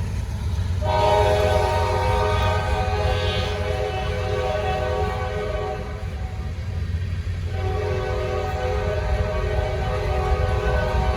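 A Norfolk Southern freight train with Union Pacific ACe locomotives passes near Charlotte under a heavy, constant rail rumble, its loud chord horn blaring in two long, sustained blasts close by.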